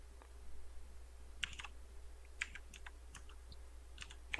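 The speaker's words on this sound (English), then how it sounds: "all I can hear is loud clicking of Steve's keyboard" Someone types on a computer keyboard during an online game session, loud irregular clusters of sharp key clicks close to the microphone over a steady low background hum.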